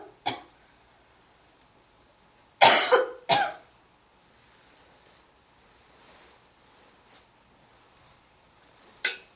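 During a Buddhist doctrine lecture, a person coughs in a few sharp, close bursts: one short cough, then a quick pair, then another after a long quiet pause, with no talking between.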